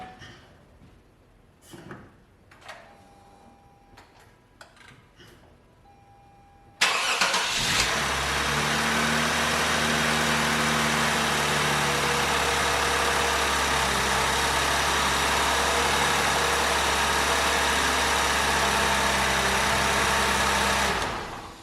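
A Lexus IS250 with a swapped-in engine cranks briefly after a few faint clicks, catches, and settles into a steady, loud, even idle that holds for many seconds with no talking.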